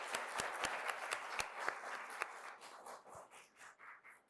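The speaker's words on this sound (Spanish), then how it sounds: "un nuevo aplauso para él, por favor" A small audience applauds during a talk, scattered hand claps with a few sharp individual claps standing out, thinning to sparse claps toward the end, fairly quiet overall.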